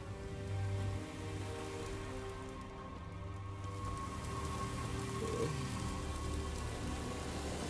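In-game downpour from The Witcher 3, a soft steady patter of rain across a settlement where people shelter, heard fairly quietly with a low hum and faint tonal background music underneath, no talking.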